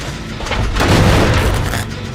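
A grenade goes off in the Dead by Daylight video game: a loud, broad booming blast swelling to a peak around the middle of the clip, then a rumbling tail that stays strong to the end.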